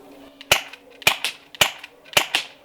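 Four sharp, loud shots from a Novritsch SSX23 airsoft sniper rifle without a suppressor ring out at an even pace, each a crisp crack followed by a quick echoing snap.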